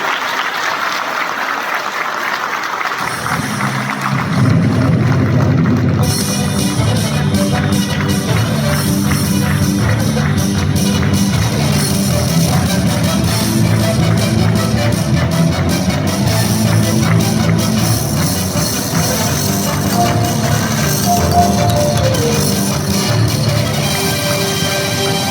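Sustained applause from an audience at a tribute ceremony honouring a man, rising after a brief quiet start and continuing steadily and loudly throughout.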